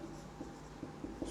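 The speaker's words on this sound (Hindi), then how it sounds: "हम लिखेंगे यहाँ पे" Chalk or marker writing on a board during a civil engineering hydraulics lecture, a few faint short strokes and taps in a quiet room.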